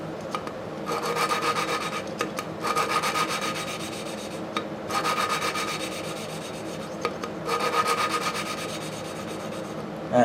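Abrasive grit grinds a valve seat on a 1952 Briggs engine, a continuous raspy scraping in repeated strokes with brief pauses between passes, close and loud, no talking.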